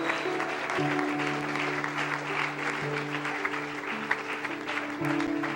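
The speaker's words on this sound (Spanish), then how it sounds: "Denle un aplauso al Señor Jesús" A church congregation applauding during a worship service, a sustained spread of clapping mixed with voices and tonal music or sung notes running underneath throughout.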